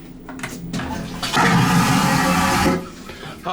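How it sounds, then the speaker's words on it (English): A vacuum-assisted mega flush toilet in a cruise ship cabin bathroom aboard the MSC Divina fires with a loud, close whoosh and roar lasting over a second, preceded and followed by quieter bathroom noise. "And of course, the mega flush toilets here as well."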